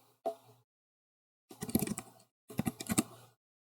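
Keys on a computer keyboard clack while C++ code is typed, in three short bursts of quick, close taps separated by pauses. No other sound is heard.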